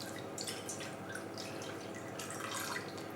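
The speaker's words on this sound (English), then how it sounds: "First thing that we want to do is pour off as much of the goose fat as we actually can." Liquid goose fat trickles and drips as it is poured off a roasting tray after roasting a stuffed goose, a steady close pouring sound with small splashes throughout.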